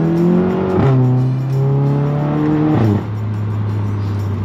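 Volkswagen MK7 GTI fitted with a MAP downpipe accelerating hard, its loud exhaust note climbing through the revs with two clear gear changes, close and continuous with no talk.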